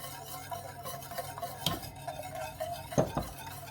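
A whisk stirring béchamel sauce in a pan, soft scraping with a few louder clinks against the metal, quiet and close with no talking.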